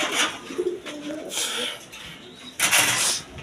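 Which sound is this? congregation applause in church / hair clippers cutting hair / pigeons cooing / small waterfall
pigeons cooing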